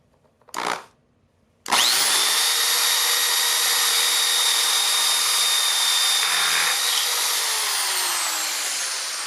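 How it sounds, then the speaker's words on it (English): A short burst of drilling, then a drill runs steadily for several seconds, a loud whining grind boring diagonally through a wooden corner using a Big Gator Tools V-DrillGuide, tapering slightly near the end. "this drill bit should pass through this corner, and then it should come out the opposite corner"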